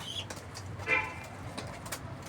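Pigeons kept for sale cooing softly in a brief, low murmur amid faint background noise.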